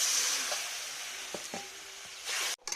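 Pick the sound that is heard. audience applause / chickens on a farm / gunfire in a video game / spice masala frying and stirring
spice masala frying and stirring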